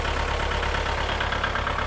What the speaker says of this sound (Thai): เครื่องติดง่ายนะครับเสียงเครื่องปกตินะครับ